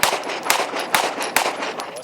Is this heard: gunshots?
yes